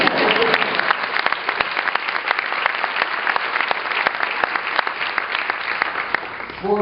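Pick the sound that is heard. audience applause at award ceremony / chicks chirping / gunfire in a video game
audience applause at award ceremony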